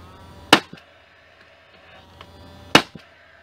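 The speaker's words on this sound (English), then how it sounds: "If you're using a nail gun" A nail gun fires two sharp, loud bangs about two seconds apart into a wooden fence picket, each a short percussive crack with a brief rattle after, while building a birdhouse.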